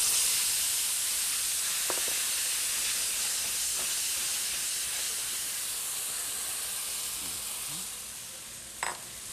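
Tomato sauce ingredients hit hot oil in a pan and sizzle with a steady, close hiss that eases slightly toward the end, with a few faint clinks.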